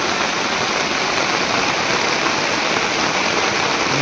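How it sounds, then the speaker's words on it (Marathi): Heavy rain pours down in a jungle, a loud, unbroken hiss of water striking leaves and ground that stays constant throughout. "पाऊस बघा किती लागतोय मित्रांनो, जोरदार पाऊस मित्रांनो"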